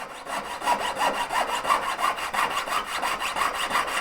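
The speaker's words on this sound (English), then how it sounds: "put that on top, and then just literally just start sawing up and down." Steady back-and-forth sawing with a fine-toothed jeweler's saw blade cutting jump rings, a quick regular rasping rhythm, close up and continuous with no voices.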